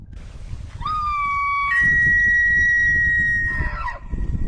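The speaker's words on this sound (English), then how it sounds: "So this is this is a bull elk bugle to attract the cows and advertise their dominance over other bulls" A Roosevelt bull elk bugling: a rising whistle that holds a long high, clear tone, then breaks into a falling squeal, loud and near over low rumbling background.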